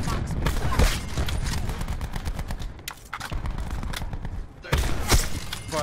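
Rapid video game gunfire crackles in dense bursts through most of the stretch, with a brief lull before a louder volley near the end, while players talk over the shooting.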